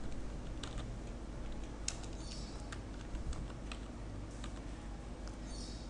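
Steady typing on a computer keyboard while working in Microsoft Access 2007, a continuous run of quick clicky keystrokes with occasional louder taps, close and alone with no talk.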